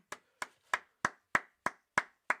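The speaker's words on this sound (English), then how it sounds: "Clap it up." Audience claps in unison at the end of a live-streamed talk, eight crisp, evenly spaced claps in a steady beat with clear silence between them.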